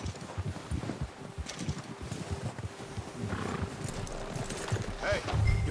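Horse hooves clip-clop steadily in Red Dead Redemption 2 amid outdoor rustling, a brief whinny-like cry near the end, with speech-like sounds mixed in.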